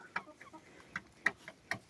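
Evening farmyard chickens and chicks giving soft, sparse clucks and peeps, a few brief calls spaced irregularly at low volume.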